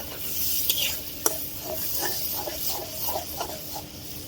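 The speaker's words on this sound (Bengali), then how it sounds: "পেঁয়াজটা একটু ভাজা হোক।" Sliced onions fry in hot oil with green chilies and salt in a wok, giving a steady soft sizzle broken by irregular scraping stirs of a spatula, with no talking.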